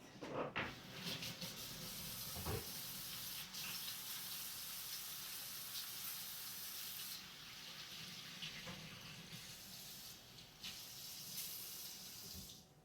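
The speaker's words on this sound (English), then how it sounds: "and then I'm gonna wash my hands" Tap water runs steadily into a kitchen sink during handwashing, a close, continuous splashing hiss with a few brief knocks and shifts in the flow and no speech.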